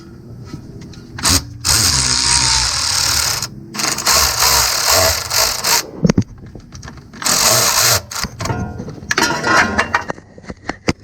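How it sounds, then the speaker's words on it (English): Milwaukee electric ratchet loosening a bolt during a 3.6L timing chain job on a 2014 GMC Acadia. Loud, close motor whirring comes in repeated bursts with brief gaps and clanks between them. "I loosened it with my Milwaukee electric ratchet"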